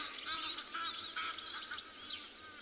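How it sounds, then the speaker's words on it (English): Egyptian geese call on a sunset safari, giving repeated honking cries at moderate distance over a steady hiss of wind and ambient noise. "I think he's going to come chase these Egyptian geese."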